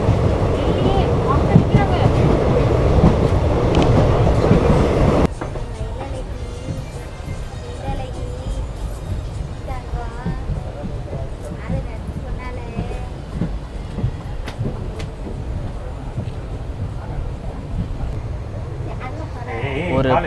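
A Coimbatore to Thoothukudi express train running on the Pollachi–Palani route near Kinathukadavu station, a loud rumbling roar that drops to a steadier rattling clatter with wind buffeting the microphone.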